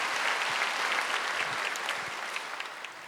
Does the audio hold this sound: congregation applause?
yes